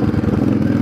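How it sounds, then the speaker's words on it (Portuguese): Loud, harsh exhaust of a Yamaha DragStar 650cc motorcycle, a steady, throbbing low rumble that stays close to the microphone throughout, with no voices. "O som do escapamento extremamente alto"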